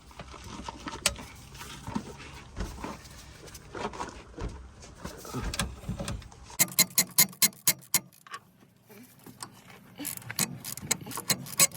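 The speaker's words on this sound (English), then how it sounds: "Get the ratchet on that properly." A ratchet wrench works on the front wheel bearing of a RAM 1500: scattered mechanical clanks, then a quick burst of sharp, evenly spaced ratcheting clicks, followed by more faint workshop handling noise.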